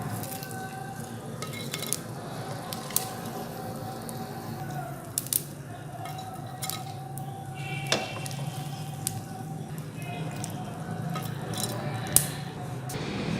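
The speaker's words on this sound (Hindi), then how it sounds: "अब मैं इसे बाहर निकाल के क्रश करके रख लूँगी" Soaked, swollen raw turmeric being crushed for haldi halwa: wet squishing and mashing with scattered sharp clicks of the crushing tool, close and steady throughout.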